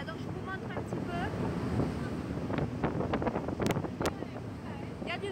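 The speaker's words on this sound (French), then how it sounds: "Il y a du vent, il y a du vent." Wind buffets the microphone on the deck of a ferry crossing toward Spain, a steady roaring rush mixed with the sea and boat noise, with faint voices underneath.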